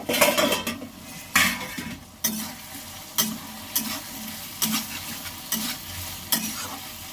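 A spoon stirs potatoes in a cooking pot over low heat, with repeated scraping and clanking strokes at a steady rhythm and a soft sizzle beneath, close and clear.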